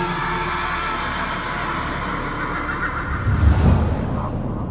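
Horse neigh with a harsh, snarling edge like an angry animal, loud and close over a steady noisy background, swelling to its strongest burst near the end.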